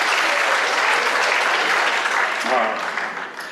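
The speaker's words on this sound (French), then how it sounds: "Oui, tu peux applaudir, ça coûte rien, c'est gratuit." Audience applause at a comedy show in Outaouais, a dense, steady wash of clapping from a crowd that holds for a few seconds before thinning out near the end, with faint voices mixed in.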